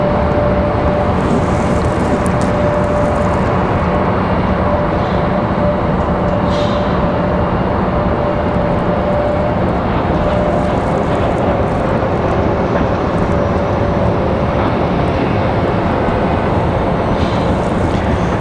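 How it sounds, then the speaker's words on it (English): A Breeze Airways Embraer E190 jet departing Raleigh Durham airport for Louisville, Kentucky, gives a loud, steady broadband engine roar that holds for the whole stretch with no talk over it. "Breeze in that E190 ready to go to Louisville,"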